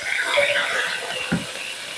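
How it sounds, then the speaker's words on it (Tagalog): Garlic and onion sautéing in oil for beef caldereta give a steady soft sizzle and crackle, with occasional stirring scrapes and a brief louder clatter near the end. "Dito na tayo magigisa ng bawang sibuyas natin."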